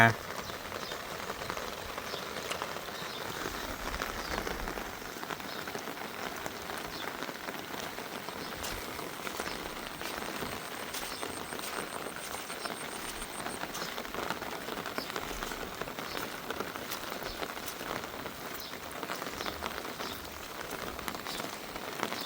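Heavy rain pours steadily onto surfaces during a day-and-night downpour, a dense, constant hiss of drops, with a faint voice occasionally audible beneath it.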